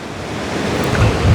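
Surf rolls in at Wolpo beach in Pohang, a loud, close rush of breaking waves mixed with wind buffeting on the microphone that swells briefly toward the end, with no voices.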